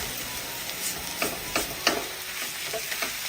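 Turmeric and garam masala are stirred into hot sautéed onions, a soft continuous sizzle broken by several scraping strokes of a spoon against the pan at uneven intervals, with no voices.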